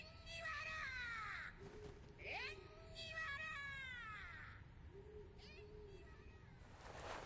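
Faint, harsh crow caws sound at midnight as the bird flies overhead. Several separate calls come in an uneven sequence against a quiet night background.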